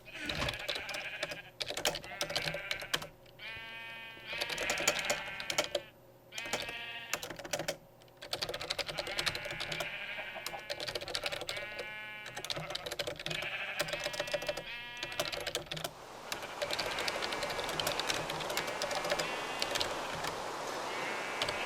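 Sheep bleat in Minecraft alongside fast keyboard typing, with several wavering bleats sounding close over the clatter of keys and some brief talk in the background.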